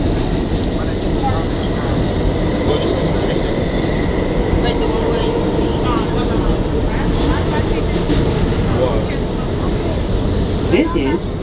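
An R211A C subway train rides under Manhattan between 59 St-Columbus Circle and Spring St, a steady, loud, close rumble and rattle of the car throughout, with passengers' voices murmuring underneath.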